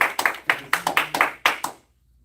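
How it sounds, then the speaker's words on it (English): A small audience gives a short round of applause after a quiz answer, about nine distinct, fairly sparse hand claps that stop abruptly into silence. "Let's give her a round of applause."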